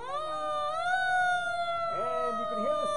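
Police sirens wail from a distance at a street parade, rising and falling as rolling tones under faint crowd noise, steady and moderately quiet throughout.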